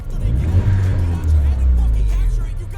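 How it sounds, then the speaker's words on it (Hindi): A DC Avanti sports car's engine held at a deep, rumbling idle, then revved on the throttle in two swelling blips before settling, close by and loud, with faint talk underneath. "एक थ्रोटल दे के बताओगे आप?"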